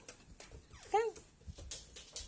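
A single short, whiny dog bark or yelp, moderately close, amid faint rustling and muffled background noise.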